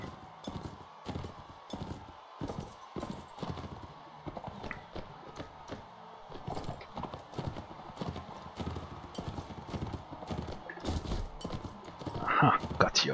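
Hooves of a galloping horse in the medieval combat game Mount & Blade: Warband clatter in a steady, rapid clip-clop rhythm throughout, with a short whinny near the end and a voice talking over parts of it.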